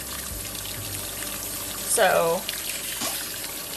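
A bar of lanolin wool soap is swished through water to make suds, with a brief splashy pour and trickle in the middle, and a single spoken word near the start.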